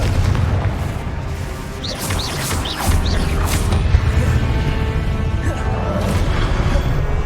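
Repeated Confringo blasting spells explode in Hogwarts Legacy, a dense, loud run of booms and crackling bursts over constant battle noise, with a few sharp hits in the middle.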